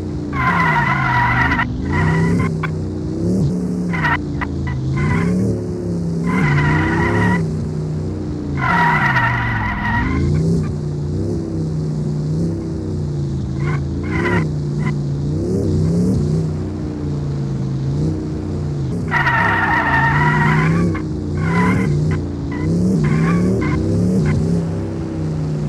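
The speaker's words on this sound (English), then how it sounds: "Oh shit, cars is drifting." Car tyres squeal and skid repeatedly in bursts over steady engine drone as vehicles drift in Sakura School Simulator, with an Audi S8 V8 on a racing circuit; loud, close screeches recur through the clip.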